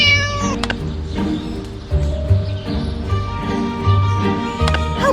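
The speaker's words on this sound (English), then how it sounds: "Naughty cat again!" A cat meows repeatedly in the Scary Teacher video game, several drawn-out cries over a bed of game music and clip-clopping sound effects, with no voices.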